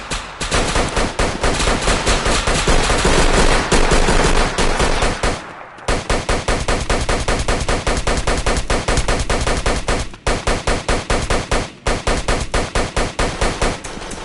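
Rapid automatic gunfire in a Roblox shooting game set in the South Bronx trenches, loud sustained bursts of repeated shots with brief gaps, near and dominant with no talk.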